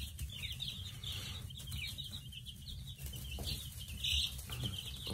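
Faint, high peeping chirps from 9-day-old baby chicks, kept with ducklings, come and go over a low, muffled background hum, with a slightly louder chirp near the end.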